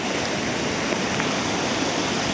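A large monsoon-swollen waterfall pours in a steady, dense rush of broadband water noise, loud and unbroken throughout with no voices.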